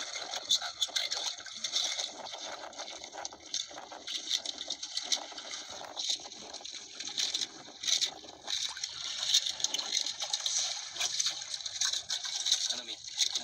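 A current of water runs steadily at a harvest site, a broad continuous rushing and gushing that stays fairly loud throughout, with faint voices now and then beneath it.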